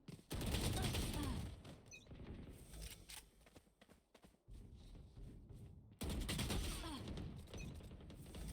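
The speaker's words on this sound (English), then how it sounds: "Unfortunately, he shot back." Rapid bursts of gunfire from an opponent shooting back in a low-elo competitive shooter match, loud and close with several volleys separated by a quieter lull, no talk over it.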